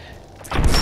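Gunfire from the video game Fallout 4 begins about halfway through, a dense, loud burst of booming shots following a quieter stretch, with no talking.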